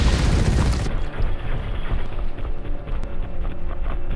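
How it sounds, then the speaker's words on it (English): A smart grenade goes off in the squad tactics game The Red Solstice: a loud, close blast opens the clip and settles into a rumbling, crackling tail of debris and scattered thuds, with no voices. "Drop a smart grenade in her ass."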